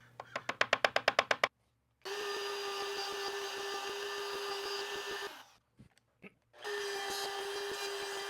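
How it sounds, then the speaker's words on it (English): A table saw runs loud and steady, cutting through the sides of a wooden gift box made to hold a whiskey bottle. Rapid knocking clatter comes before it, then the blade whine drops out briefly and returns. "high enough so that I do cut through the sides and that the box doesn't fall apart over on the table saw"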